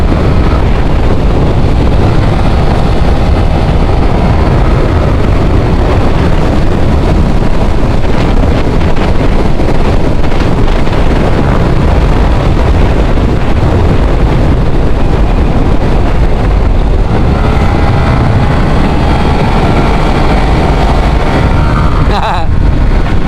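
Stock Yamaha NMAX motor scooter engine at riding speed, a loud continuous drone buried in heavy wind buffeting against the microphone.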